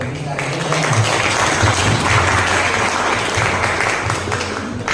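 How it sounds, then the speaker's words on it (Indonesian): Students and guests at a university electrical engineering public lecture applaud together, a full sustained round of clapping with some voices mixed underneath, loud and continuous throughout. "Boleh tepuk tangan kepada kita semua dan juga Ibu Minister."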